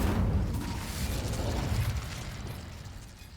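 A fire spell cast in Hogwarts Legacy, a roaring, crackling whoosh of flame that bursts loudly at the start and then tapers off over a few seconds, with no voices.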